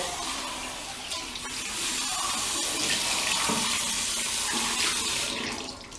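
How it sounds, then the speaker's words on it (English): Hands rinsed under a running faucet in a bathroom sink, a continuous broad splashing hiss that wavers as the hands move through the stream, close and steady with no talking. "Wash your hand with the water."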